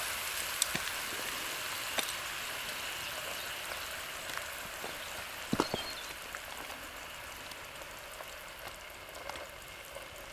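Steak simmering in a pan on a camp stove, a steady soft sizzle with scattered small pops and crackles, faint and continuous throughout with no talking.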